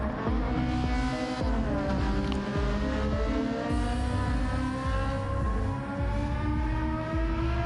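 A GT3 Ferrari race car engine in Gran Turismo 7 on Trial Mountain circuit, a steady high-revving whine with shifting pitch as it drives, loud and continuous with no talk.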